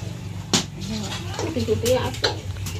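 Dishes being washed at home: a few sharp clinks and clatters of crockery and metal pots under nearby conversation, with water-like rustling between the knocks.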